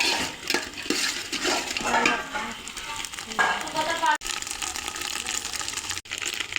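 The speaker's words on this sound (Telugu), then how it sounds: "ఇది చేపల గుడ్లు అయితే ఫ్రై అయితే చేస్తున్నాం మేము" Fish roe fries in a pan with a loud, steady, close sizzle and crackle that runs continuously, with occasional stirring scrapes and two brief cut-outs.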